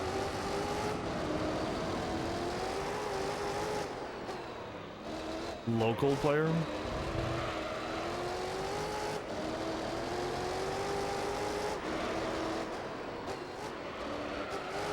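Race car engines from Gran Turismo 3: A-Spec whine and rev continuously, with rising and falling pitch sweeps around a shift or pass, while people talk over the game sound.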